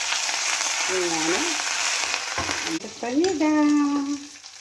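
Mustard seeds crackling and sizzling in hot oil for tempering, a loud, dense sizzle with a brief dip and then a burst of popping, while a voice speaks over it.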